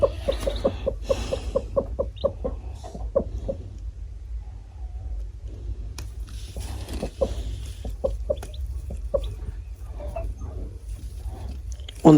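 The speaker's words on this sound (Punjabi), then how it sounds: "ਚੂਚੂ ਦੀਆਂ ਆਵਾਜ਼ਾਂ ਆ ਰਹੀਆਂ ਨੇ" A black Aseel hen clucks in quick rhythmic bursts near her newly hatched chicks, whose faint high cheeps come and go over a low background rumble.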